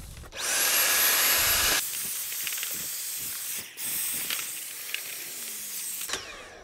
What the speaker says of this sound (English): I'm gonna give that a bit of a hoover